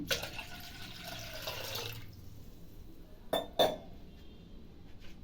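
Water is poured into a raw hasi gojju mixture of green chillies and garlic, a close liquid splash for about two seconds, followed by a couple of sharp clinks of a utensil against the bowl.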